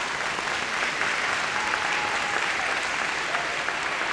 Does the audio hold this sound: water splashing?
no